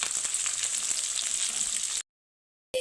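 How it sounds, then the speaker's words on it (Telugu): Sliced large onions frying in oil in a pan give a steady, bright sizzle with faint crackles, close and continuous, then cut out briefly before resuming. "ఉల్లిపాయలు వేగుతున్నాయి కదా"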